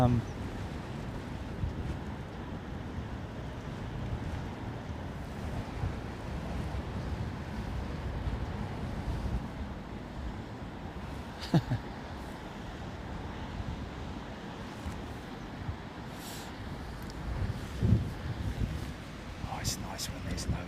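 Storm winds blow steadily at London Heathrow Airport, rumbling low and roaring against the microphone, with a few brief knocks and clicks breaking through.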